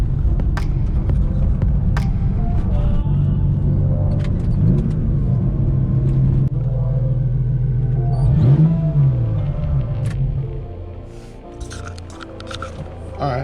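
A steady low engine rumble and intake drone heard from inside the cabin of a Porsche 996 fitted with an intake elbow, windows up, rising briefly with acceleration, fairly loud and continuous.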